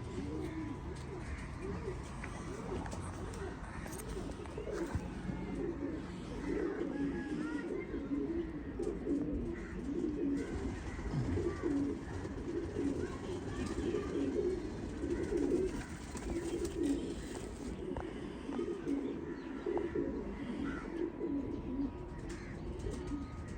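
Racing pigeons cooing inside their loft, soft repeated throaty coos layered over one another with occasional chirps, steady and moderately close, with faint talk in the background.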